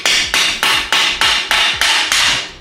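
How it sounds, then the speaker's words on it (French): Eight sharp, evenly spaced hammer blows drive screws into a metal floor rail during bathroom renovation, each strike loud and close with a quick decaying ring, nothing else audible between the hits. "Un petit coup de marteau dedans, et ça s'enfonce comme ça"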